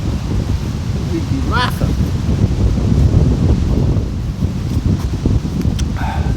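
Wind blows across a hammock campsite in a steady, rumbling roar with buffeting gusts against the microphone, continuing under a person talking.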